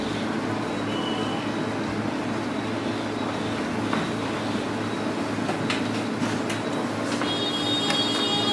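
A Brother MFC-9140cdn color laser printer runs a test page, giving a steady mechanical whir and hum throughout with a few faint clicks and ticks of paper handling toward the end, close by and with no talk.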